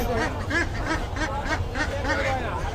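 China broiler ducks at a poultry market quack repeatedly in a dense, overlapping chorus, loud and close, with crowd chatter and bargaining voices mixed underneath throughout.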